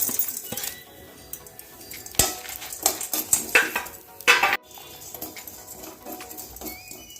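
Toor dal roasting in a pan with black pepper, cumin and a dried chilli, stirred with a metal spoon: a run of close, bright scraping clinks and rattles against the pan, then quieter faint stirring.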